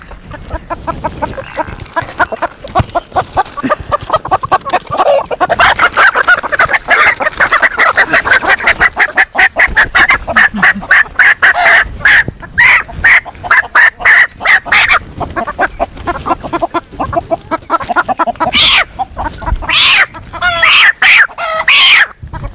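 Native desi chickens penned in a coop cluck and squawk in a dense, continuous, loud chorus of overlapping calls, with occasional honk-like cries among the flock.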